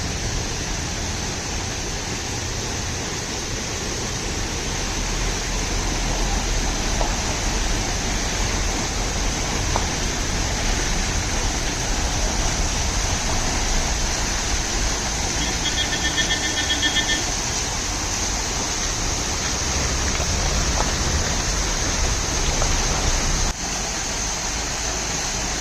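A waterfall on a mountain stream near Mussoorie gives off a steady, dense rushing roar that holds unbroken for the whole stretch, heard from close by with a faint tone briefly above it.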